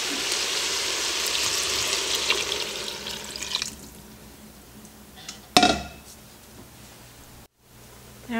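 About 2.5 cups of water pour into an Instant Pot for goulash, a loud close splashing stream for several seconds, followed by quieter kitchen clatter and a sharp knock.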